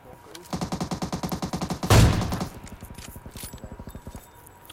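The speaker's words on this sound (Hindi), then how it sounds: "शैक वाले पे पड़ रही है गोलियां" Rapid automatic gunfire in the video game PUBG Mobile rattles in steady repeating bursts as shots strike a shack, with one loud heavy blast partway through before the firing continues more faintly.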